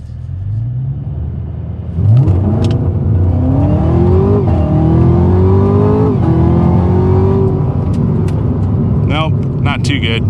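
A Camaro ZL1 1LE strapped to a dyno roars up through several rising revving pulls, a loud close engine drone that jumps in at the start and stays heavy, with speech faintly in the background.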